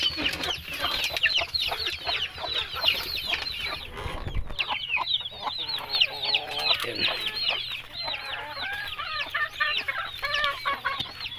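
Rhode Island chickens on a farm cluck steadily and close by, with other fowl calling around them and a brief low rumble partway through.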